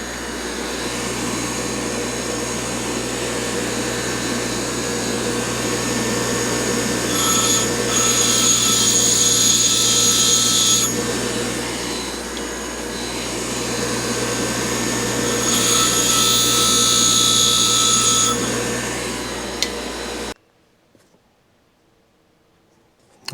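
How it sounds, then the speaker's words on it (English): A bench grinder shaping both sides of a small part for a handmade motorcycle control cable on a Yamaha YL2C Trailmaster 100cc, a steady loud motor whine with two surges of harsh metal grinding, then a sudden stop into silence near the end. "And I just grind both sides off a little bit."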